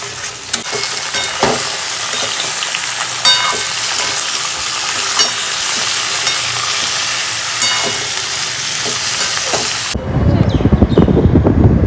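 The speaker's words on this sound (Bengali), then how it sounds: "ভোলা মাছের ঝাল হবে তার জন্যে মশলাটা কষানো হচ্ছে" Spice paste for a bhola fish curry sizzles loudly in a pan, a dense continuous fry with stirring scrapes and spoon clicks over about ten seconds, then the sizzle drops out as rumbling handling noise takes over.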